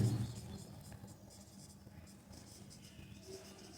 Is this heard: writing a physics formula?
yes